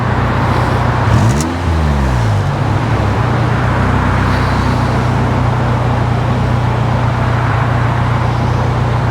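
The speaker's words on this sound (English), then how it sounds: "I do want to get the exhaust a little bit" A car engine idles steadily at a motorway services, its low exhaust drone constant and close, while another vehicle briefly rises and sweeps past early on.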